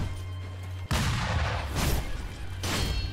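Enemy gunfire in a video game, fired by Snake Eyes Shirafuji: sharp, loud blasts that crack out one after another with booming tails and no talking.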